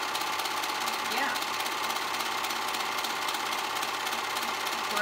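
A serger overlocking the edges of the front and back bodice of a women's tee dress, a fast, steady mechanical whir that runs continuously and close by.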